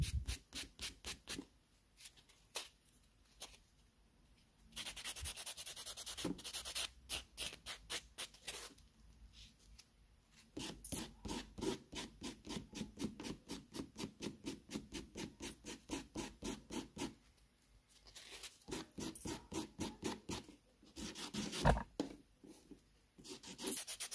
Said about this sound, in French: je lime un peu plus par là